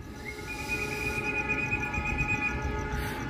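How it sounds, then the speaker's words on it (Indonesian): A Malabar passenger train passes a station in Indonesia, a low rumble of rolling cars with a steady high whine or horn-like tone sustained over it, fairly faint and without speech. "Kereta api Malabar yang ditunggu-tunggu."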